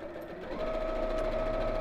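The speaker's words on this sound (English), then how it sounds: "literally sewing just around the edge of the decaville" Sewing machine stitching steadily around the edge of a fabric purse, a close, continuous whirring hum that settles into an even motor tone after a brief start, with no talk over it.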